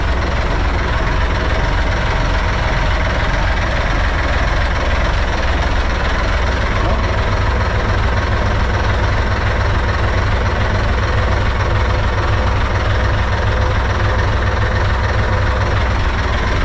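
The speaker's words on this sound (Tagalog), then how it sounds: "Pwede na natin isi-trial itong isang makina." Boat engine on a mother boat being trial-run, a steady loud low rumble with knocking vibration that runs unbroken throughout, with no talk over it.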